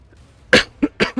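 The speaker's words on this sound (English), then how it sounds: "that was a loud cough" One loud, harsh cough up close, followed by a couple of smaller coughs in quick succession.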